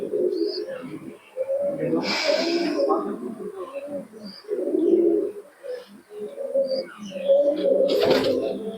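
Several Giribaz pigeons of an old lineage coo in repeated, fairly close, throaty bursts, with a voice speaking intermittently among the calls.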